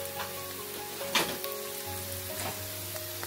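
Sliced onions frying with a teaspoon of coriander powder give a soft, steady sizzle at low volume, broken by light stirring clicks and scrapes.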